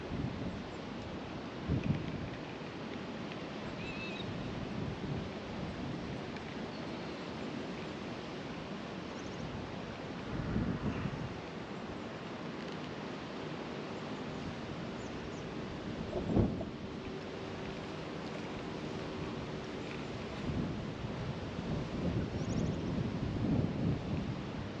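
Blustery wind buffets the microphone beside a creek while fishing, a steady low roar broken by occasional sharper thumps and gusts, continuous and fairly close, with nobody speaking.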